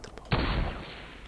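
A single loud burst of gunfire in the video game Fortnite, sharp onset followed by a sustained noisy tail that slowly fades, heard alone after a couple of faint earlier taps.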